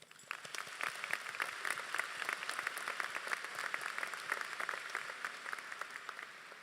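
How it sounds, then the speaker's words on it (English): A crowd at a high school graduation ceremony claps in steady, scattered applause that carries on evenly throughout, fairly faint and distant, with no voices over it. "can I please get a round of applause for our amazing families?"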